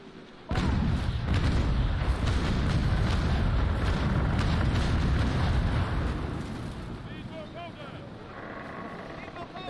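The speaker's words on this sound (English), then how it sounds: "So I'm gonna keep firing here." Naval Action ship cannons fire in a broadside, a sudden heavy booming roar that swells and rumbles for several seconds before thinning into lingering splashes and crackles, with someone talking over part of it.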